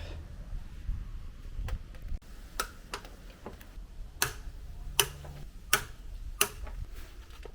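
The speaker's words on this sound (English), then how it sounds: "these need to be torqued to 45" Torque wrench clicking as bolts on a Tesla are tightened to spec, giving a series of sharp, separate clicks spaced irregularly over a quiet shop background, close and fairly loud.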